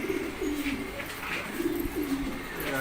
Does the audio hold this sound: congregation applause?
no